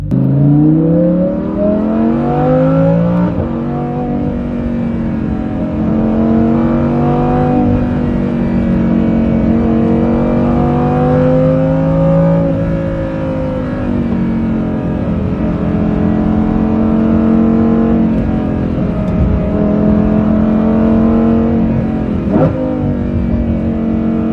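A Lamborghini Huracan Performante fitted with a Kline Innovation valvetronic exhaust revs repeatedly, its engine note climbing and falling in loud, close sweeps with a raspy, resonant tone and no talking.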